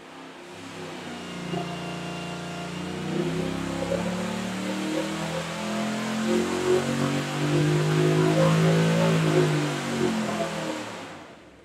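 A 416 cubic inch LS V8 on an engine dyno makes a full-throttle pull. The loud, steady roar climbs in pitch and volume over about ten seconds, with no voices.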